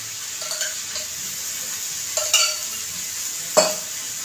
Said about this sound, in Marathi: पलटी केल्यानंतर आपल्याला साईडने तूप किंवा तेल सोडायचं म्हणजे चिकटणार नाही.